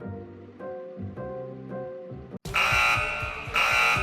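A school fire alarm rings loudly, a steady harmonic buzzing tone pulsing in bursts before jumping to a harsher, brighter alarm blare that repeats in pulses.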